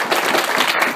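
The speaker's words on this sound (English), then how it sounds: "Round of applause." Audience applause for a university debate team at a semi-final debate, dense and steady clapping throughout the brief moment with no voices over it.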